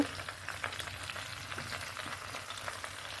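Frying in hot oil with salt and turmeric added while cooking rohu fish curry, a close continuous sizzle broken by crackling pops and the scrape of stirring, with no talk.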